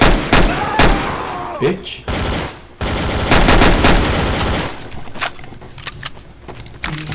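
Gunfire in the video game Trouble in Terrorist Town, with loud, rapid bursts of shots broken by short pauses and clicks, then lighter scattered sounds, while a player briefly speaks.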